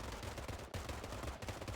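Rapid gunfire from a firearm at a shooting range, a dense, continuous burst of sharp reports, with no voices heard.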